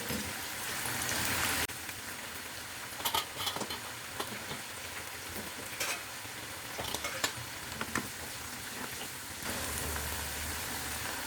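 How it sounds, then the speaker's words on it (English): Parboiled baby potatoes with the skins left on roast in an oiled pan, giving a steady crackling sizzle with scattered sharp pops and occasional stirring scrapes, close and even throughout with no talking. "Now let these baby potatoes roast well."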